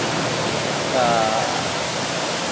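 Phu Sang waterfall in Phayao, Thailand, gives off a steady, loud broadband rush of falling water that holds constant throughout, with no voices audible over it.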